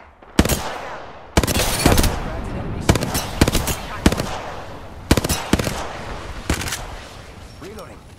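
Rapid automatic gunfire from Apex Legends, with Octane in the fight, comes in repeated loud bursts separated by brief pauses, with sharp individual cracks over a rattling, echoing din.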